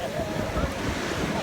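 Big ocean waves break at a beach, making a continuous, broad wash of surf mixed with wind noise on the microphone, fairly loud and steady.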